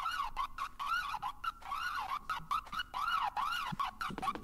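Police siren in a garbage-house escape video game, a rapidly warbling wail repeating steadily throughout, clear and moderately loud with no talk over it.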